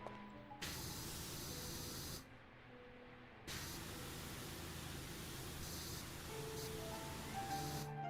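Steady broadband hiss of a pressure washer's water spray in the cleaning game Powerwash Simulator 2, running continuously and loud with a brief drop to quieter spraying midway before resuming.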